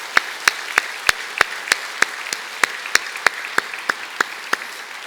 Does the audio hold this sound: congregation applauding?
yes